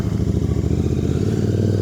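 A motorcycle idles close by at dawn on a street in Kolkata, a steady low, rapid engine thrum with an even beat and no voices.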